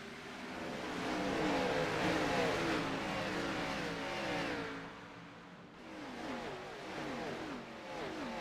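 Several sim race cars accelerate at a restart at Texas Motor Speedway, their engines revving in a sustained, layered roar that rises, dips slightly, then builds again as the pack pulls away.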